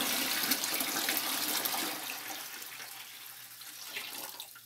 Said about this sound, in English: We're gonna add this cool water to it.